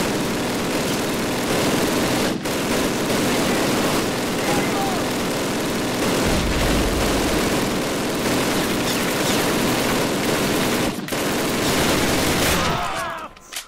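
Dense, continuous gunfire in the World War II shooter Call of Duty WWII: rifle and machine-gun fire rattle nonstop with engine and aircraft rumble underneath, loud and close, and it cuts off abruptly at the end.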